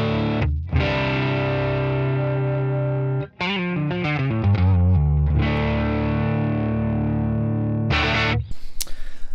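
An Epiphone Les Paul 50s Standard electric guitar in Lemon Burst plays a loud run of sustained chords and picked notes, heavily distorted with effects, with a brief pause near the middle and a burst of noise at the end.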